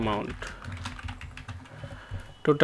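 Rapid keystrokes on a computer keyboard while typing an invoice in MS Word, a close, clicky burst of typing with someone speaking at the start and end.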